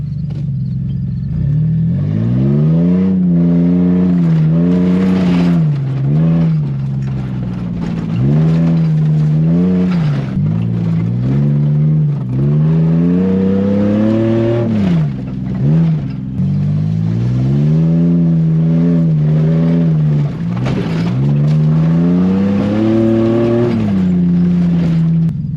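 A Chevrolet Blazer's engine revs repeatedly while driving, rising and falling in loud, close surges that climb in pitch and drop back, over a constant low rumble.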